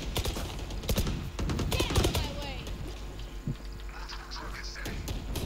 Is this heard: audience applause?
no